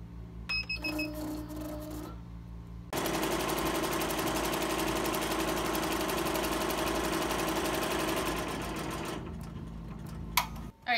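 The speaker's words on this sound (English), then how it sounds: "Alright, so I went ahead and I stitched my dye line." Embroidery machine stitching a dye line on an apron: a steady, rapid mechanical chatter running for several seconds, bracketed by short beeps and clicks before and after, with no talking.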